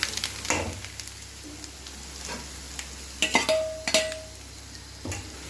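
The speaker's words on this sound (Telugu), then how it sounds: "ఆయిల్ కాగిందండి, ఆవాలు వేస్తున్నాను." Mustard seeds dropped into heated oil for a Telugu pappu charu sizzle softly in the pan, broken by a few sharp metallic clinks of a spoon against the vessel, close by with no voices.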